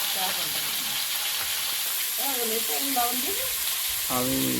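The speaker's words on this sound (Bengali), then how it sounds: "আলুগুলো দেবো আলুর মধ্যে একটু লবণ দিয়ে ভাজবো আমি" Potatoes frying with salt in hot oil give a constant close hiss and crackle under a voice speaking in Bengali in short phrases.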